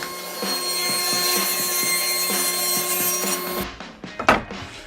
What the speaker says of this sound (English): Rip one side of this plywood.